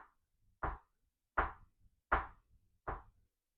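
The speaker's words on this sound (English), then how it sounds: "we heard a steady knocking from nowhere and everywhere" A steady knocking repeats at an even pace, four or five firm, hollow knocks evenly spaced in otherwise near silence.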